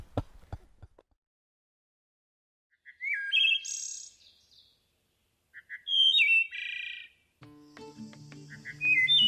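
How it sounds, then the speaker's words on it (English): Wood thrush singing its flute-like phrases in separate clear bursts, a few short whistled notes then pauses, fairly close and alone over quiet surroundings, with a faint rustle at the start. "The wood thrush is a unique bird with flute-like songs that adds music to summer mornings"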